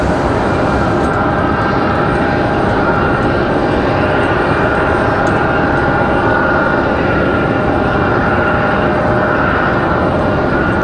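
American Airlines Airbus A321-200 arriving from Charlotte at Raleigh-Durham, a loud, close, sustained jet engine roar with a steady whine on top and no talking.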